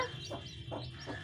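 Newly hatched white baby chicks on a village farm peep and cluck in a few short, soft bursts, spaced about half a second apart over a steady low background hum.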